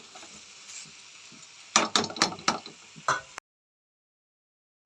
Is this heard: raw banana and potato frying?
yes